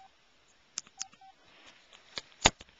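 An LG enV3 phone keypad gives short electronic tones as its buttons are pressed, a few separate beeps mixed with sharp clicks of keys and the handset, close and clear with no speech.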